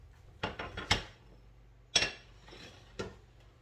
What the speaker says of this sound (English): I just have my butter here, and I'll just do a little scoop off for that, because that's a clean spoon